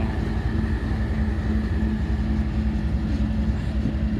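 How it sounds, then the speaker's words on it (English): An ES44AH locomotive hauling a long freight train works hard, its deep, steady engine drone and low rumble continuous and close with a sustained tonal hum throughout. "it's working hard, obviously, with the weight of this long train"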